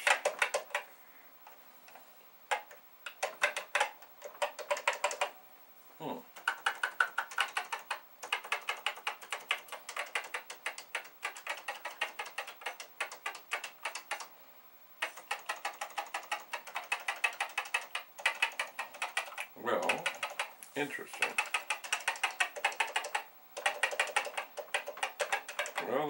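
Someone types and presses keys on a Commodore VIC-20 with a PET-style keyboard, producing close, irregular clacking in quick runs broken by short pauses.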